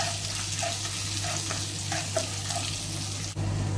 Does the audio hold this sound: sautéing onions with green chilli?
yes